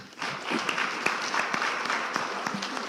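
An audience at a National Assembly induction ceremony applauds, a dense, steady patter of many hands clapping that stays even throughout.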